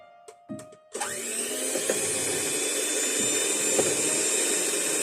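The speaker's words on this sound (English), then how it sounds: "And I'll continue whisking." A small electric whisk or mixer starts up and runs at a steady high whine while blending a homemade leave-in hair conditioner mixture with an added organic preservative, loud and continuous after a few brief clicks.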